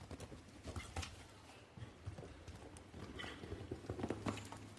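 Horse hooves thudding on turf during a show jumping round at the Los Angeles Masters Grand Prix, irregular muffled footfalls over steady crowd ambience, moderately near and loud.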